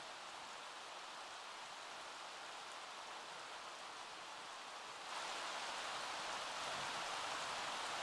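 Steady broadband hiss of rain falling, continuous and even, growing a little louder partway through. No voices.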